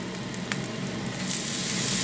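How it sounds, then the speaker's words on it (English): Meatballs sizzle steadily in a skillet with vodka sauce, a dense, close hiss of frying that holds loud and even throughout, with one faint clink partway and no talking. "Now we're going to simmer those meatballs in that Volpino vodka sauce"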